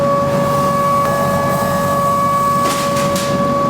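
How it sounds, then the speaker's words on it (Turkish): A cutting machine cutting letters for door sills, a steady loud mechanical hum with sustained tones and a few light clicks near the end. "Makine şu anda iler kesiyor."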